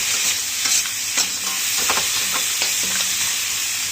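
Dried fish (shutki) with chili powder fried and stirred in a pan, a loud, steady sizzle broken by repeated scraping stirs of the spatula, close and without voices.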